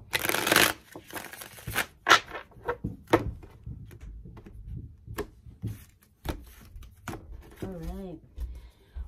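Tarot cards being shuffled by hand in a run of quick, crisp riffling bursts, the loudest near the start, followed by scattered soft taps and rubs of card on card under a quiet room hush.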